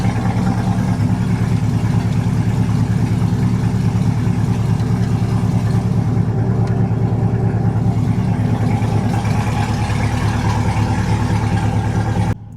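A 2023 Chevrolet Corvette C8 Stingray V8 idles close by during an oil change, a loud, steady low hum with a faint pulse that holds evenly and then cuts off abruptly at the end.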